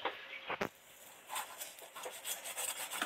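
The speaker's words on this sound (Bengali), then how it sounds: "এবার চৌকো চৌকো করে বরফি বরফি করে কেটে নেব।" A knife cuts fried egg for egg chili into square pieces, giving soft, close rubbing and scraping strokes against a plate, faint and repeated in an uneven rhythm.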